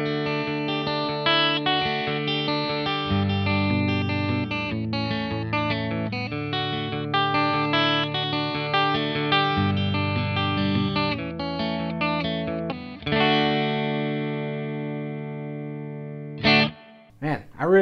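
A Fender American Original 50s Stratocaster electric guitar on its middle pickup plays strummed chords and ringing notes through effects, with a sustained chord fading at the end and a few short hits, loud and close.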